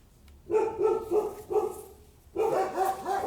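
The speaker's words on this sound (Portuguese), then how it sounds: "E os cachorros latindo e vizinho buzinando." Several dogs bark in quick overlapping bursts, fairly close and loud, with a short lull before another burst.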